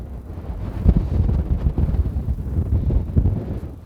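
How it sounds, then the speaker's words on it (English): Strong gusting wind on the Wynyard Golf Club course buffets the microphone in a steady, loud, low roar with rhythmic surges and no voices. "bloody horrendous, man, this wind"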